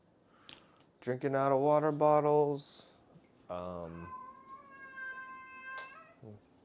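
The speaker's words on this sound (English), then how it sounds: "Annoying cats." Cats meow loudly and repeatedly, with drawn-out harmonic cries in two main bursts and a rising, thin call near the end, close to the microphone with no talk over them.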